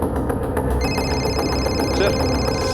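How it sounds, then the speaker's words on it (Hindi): A phone rings for an incoming call in a Hindi crime drama, its ringtone entering after a moment as a sustained high tone over a dense background score, repeating steadily at moderate loudness. "सर, नेहा का फोन।"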